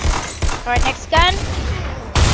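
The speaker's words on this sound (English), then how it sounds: "That's a shotgun, that was a leech." Shotgun blasts in the Roblox game Arsenal: several sharp, loud gunshot bursts at irregular intervals, with brief tonal game sounds between them and voices in the background.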